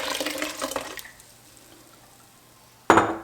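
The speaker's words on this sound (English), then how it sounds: "I am going to add some water." Water pours into concentrated dark golden bone broth in a kitchen, a splashing stream that stops after about a second, then quiet before a sudden clattering splash near the end.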